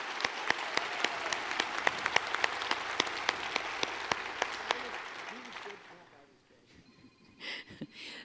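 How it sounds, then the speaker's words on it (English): Audience applause at a public works congress general session, dense clapping from a large hall with sharp individual claps standing out, fading away after about six seconds before a voice begins speaking. "I like to give them a round of applause for their hard work."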